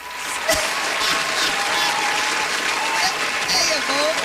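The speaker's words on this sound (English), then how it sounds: "Now that song not only deserves a round of applause, it deserves some money in the bank." An audience applauds after a song on a stage show. The sustained clapping runs steadily throughout, and a voice carries over it.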